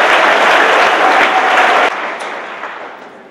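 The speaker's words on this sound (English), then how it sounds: "let's give them a round of applause" Lecture audience applauding loudly with dense, continuous clapping that drops to a quieter, thinning patter partway through.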